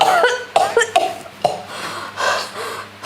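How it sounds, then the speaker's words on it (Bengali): A few sharp coughs from a person at home in a Bangla comedy drama, loud and close, with several short bursts clustered early and softer breathy sounds after. "তোমার তো দেখছি খুব কাশি হয়েছে।"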